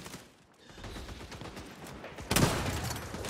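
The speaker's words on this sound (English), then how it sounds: "Can I tell you this shotgun sucks ass?" A shotgun blast in the online shooter XDefiant cracks out once amid a busy game-fight background.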